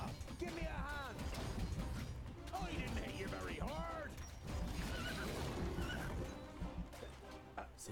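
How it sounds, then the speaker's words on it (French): Horse neighing in the video game The Dwarves: several loud, shrill whinnies rise and fall across the battle, mixed with clashing combat noise and someone talking over it. "Il est invincible ce cheval."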